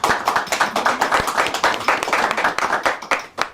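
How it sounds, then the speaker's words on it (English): Close, brisk clapping from a small audience at a panel discussion, a quick run of distinct hand claps that stays loud and fairly even before trailing off. "A round of applause for our panelists"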